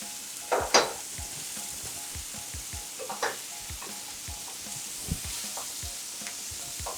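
Pork cooking in a hot pan with chili for a quick pork and sweet corn dish, a steady close sizzle with a few brief scrapes and clinks of stirring.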